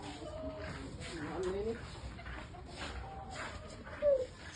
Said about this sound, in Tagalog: Ang daming manok oh, pangsabong.